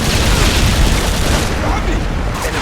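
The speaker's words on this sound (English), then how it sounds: "the new Semtex grenades stick to enemies and surfaces" A Semtex grenade blast in Call of Duty: Modern Warfare 2 booms loudly amid dense, rumbling gunfire and battle noise, with a voice talking over the din.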